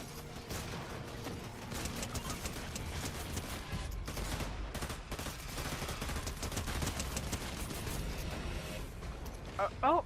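Rapid gunfire from a video game crackles in dense bursts and fusillades, fairly faint and mixed under players talking over it, with a few sharper shots near the end.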